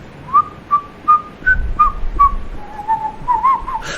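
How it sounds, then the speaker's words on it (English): Someone whistles a cheerful festive Christmas tune, a string of short clear notes followed by a longer sustained phrase, close and fairly loud with no talking. "I may inadvertently whistle a festive tune."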